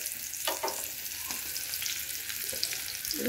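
An egg fries gently in a home kitchen pan, a soft, fairly quiet sizzle broken by a few light scrapes and taps, swelling briefly at the very end.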